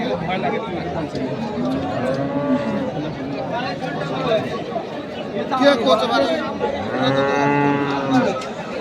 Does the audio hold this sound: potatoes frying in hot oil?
no